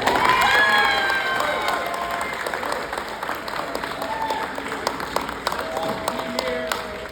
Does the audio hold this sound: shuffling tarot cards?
no